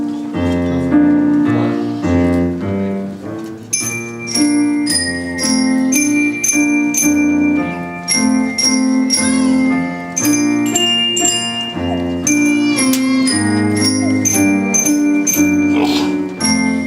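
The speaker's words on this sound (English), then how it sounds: "We start out on just bells, so they're playing tunes with everyone else." Fifth grade band percussion section playing melodies on bells, bright sustained metallic tones with steady rhythmic strikes, loud and close, running continuously alongside the band's other instruments.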